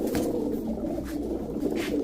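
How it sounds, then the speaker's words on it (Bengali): A red khaki female pigeon coos softly among other pigeons, a low murmuring sound held close and faint through the short stretch, with no talk over it. "লাল খাকি মাদি কবুতর।"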